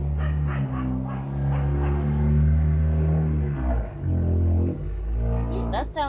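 A loud, low, rumbling engine of an old beat-up car revs and roars up close, surging and dipping in steady waves with a brief sharper sound at the end.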